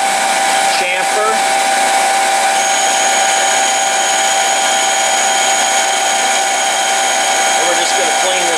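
CNC machine chamfering X2 PDB spacer stock, a continuous close high-pitched whine with steady tonal hum and faint cutting hiss, with a voice talking briefly at the start.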